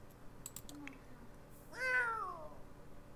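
Cats meowing in the life-simulation video game The Sims 4: a few faint clicks and a small chirp, then one clear, drawn-out meow that slides downward in pitch, heard alone against a quiet background.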